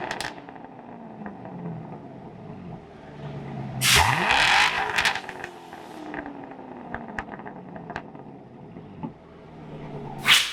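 Car fitted with a Corsa axle-back exhaust and X-pipe revving, with a sharp loud throttle blip mid-clip that rises and falls in pitch, surrounded by a rumbling idle and lighter revs, close by.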